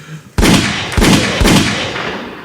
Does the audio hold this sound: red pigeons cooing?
no